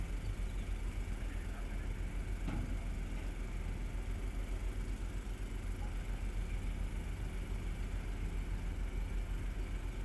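An engine-driven water pump runs at the back during a boat salvage job, giving a steady, unbroken mechanical drone and rumble that holds at an even level for the whole stretch.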